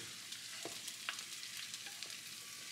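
Carnitas meat frying in a pan and turning crispy, a steady close sizzle and crackle with a few sharper pops, no voices.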